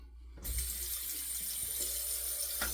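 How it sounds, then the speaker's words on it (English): A tap suddenly turns on and runs steadily into a sink to rinse after a wet shave, a constant close hiss of water with a few faint knocks, no speech. "let's rinse"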